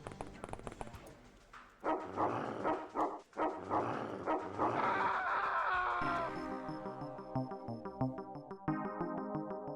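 A dog in the video game X-Com Files barks sharply several times and whimpers, loud and close. Then the barking gives way to ringing, tonal game music.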